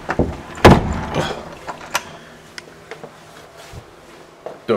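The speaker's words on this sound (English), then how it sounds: "Door closes quite nicely." An interior house door with worn hinges swings and closes, giving a loud knock near the start followed by lighter clicks and small taps, with a final bump at the end; no talk.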